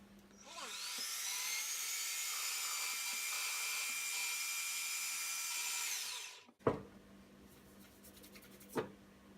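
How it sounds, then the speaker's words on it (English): A 3/8 Forstner bit bores counterbores into a tele guitar body from a $65 kit, giving a steady, high whirring grind for about six seconds before stopping, then a few faint knocks. "you can use a 3/8 Forstner bit and counterbore them"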